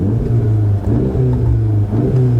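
A Volkswagen Golf R fitted with an aFe performance air intake accelerates, its engine tone rising and falling through steady pulls with a loud, close, continuous rumble and intake whir.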